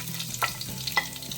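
Chopped onion fries in hot coconut oil with a brief, close sizzle and a couple of quick scraping stirs against the pan, with no voices.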